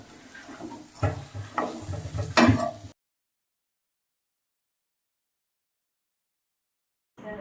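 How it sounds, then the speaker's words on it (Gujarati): Crushed peanuts are stirred into a cooked spiced dish in a pan, with about three seconds of scraping and gentle sizzle, then silence, then a brief return of stirring at the end. "છેલ્લે આપણે સિંગદાણાનો ભૂકો નાખી મિક્સ કરી અને બંધ કરી નાખશું"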